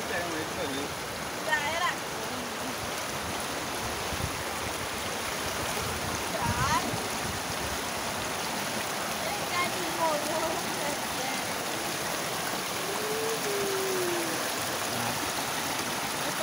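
Floodwater rushes across a flooded road at Km 100 in a steady, continuous roar that holds level for the whole stretch, with no clear voices over it.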